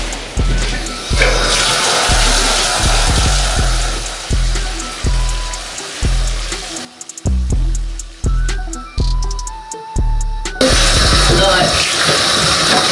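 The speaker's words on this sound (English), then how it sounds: "let me go and get this water started." Water runs steadily from a tap, a loud, close rush that keeps being cut by regular rhythmic pulses, with a brief break partway through before the flow returns strongly.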